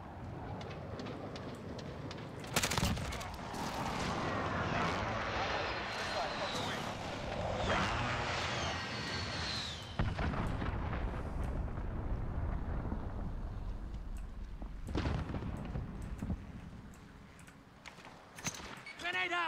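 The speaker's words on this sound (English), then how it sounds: "Enemy precision airstrike inbound. Take cover." Precision airstrike explosions in the Call of Duty video game come as a loud, sustained, rumbling barrage with a sharp blast near the start and another later. A voice talks over the noise throughout.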